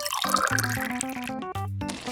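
A thin stream of water is poured during miniature cooking with tiny utensils, making a brief close trickle.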